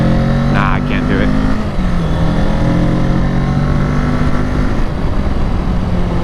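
Kawasaki Ninja 650 motorcycle engine droning steadily as the bike climbs a hill, loud and close with constant wind rush, holding a low steady tone with a brief pitch shift partway through.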